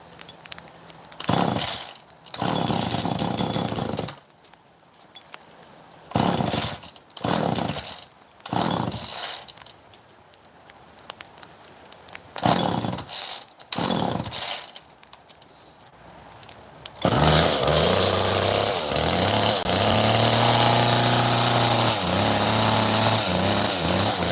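Super 2 chainsaw in need of a carb cleaning: short bursts of loud, buzzing engine running separated by silent gaps, then a sustained, steady running section to the end.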